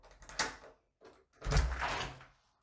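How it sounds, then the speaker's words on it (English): A door is unlocked and cracked open: a soft metallic click and latch rattle, then a duller, longer rustling thunk of the door easing open, quiet and close with no talking. "unlock the door."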